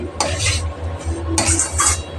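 Two bursts of scraping as a spoon stirs dry semolina roasting in a metal pan, close and fairly loud, with no voices.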